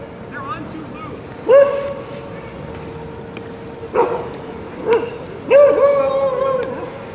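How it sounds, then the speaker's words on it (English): Dogs on an outdoor ice skating rink in Toronto on a December night give several short yelping barks and whines, a few separate bursts over crowd murmur. "Dogs on the ice."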